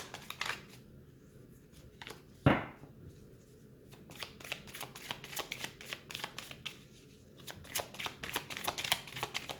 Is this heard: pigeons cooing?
no